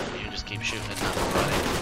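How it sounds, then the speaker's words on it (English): An enemy character in Alpha Protocol fires a gun in a continuous, loud barrage of overlapping shots that fills the whole moment. "You just keep shooting at nothing"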